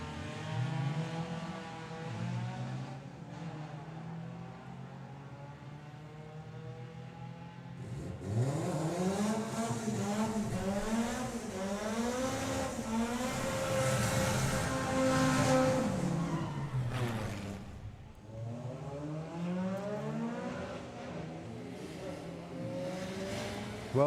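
Drag racing cars, including a Porsche, launch down the strip at Bug Jam, engines roaring and revving in rising sweeps, loud and heard from trackside with a busy background.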